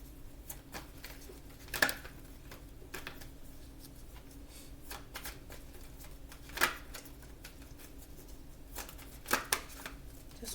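Tarot and oracle cards being shuffled by hand, a close, soft riffling patter with a few sharper slaps and snaps of the deck at irregular moments, with no talking.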